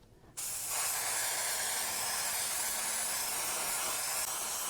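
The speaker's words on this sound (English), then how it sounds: "The first thing we're going to do is spray the ramekins." Cooking spray hisses onto ramekins set on an air fryer tray, a single continuous close spray that starts abruptly and holds steady for several seconds.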